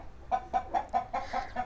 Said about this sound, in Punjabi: ਸੀਲ ਕੁੱਕੜ